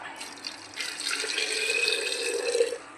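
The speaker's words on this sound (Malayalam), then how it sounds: "വെള്ളം നമുക്ക് കുറച്ചിലേക്ക് ഒഴിച്ചു വെക്കാം." A steady stream of hot water pours into a vessel up close, growing slightly fuller in tone before stopping.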